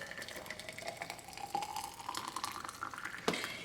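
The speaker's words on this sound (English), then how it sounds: "And then I'm going to pour fresh water over that tea" Fresh water poured over a tea bag in a mug, a steady close trickle and splash filling the cup for a few seconds, with a brief clink near the end.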